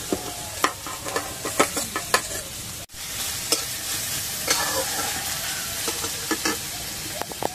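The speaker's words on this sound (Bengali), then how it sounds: "তারপরে দিয়ে দেবো পেঁয়াজ কুচানো, আর দিয়ে দেবো কাঁচা লঙ্কা।" Chopped onion and green chili fry in hot oil with five-spice seeds, a steady close sizzle broken by repeated scraping taps of a spatula stirring in the pan.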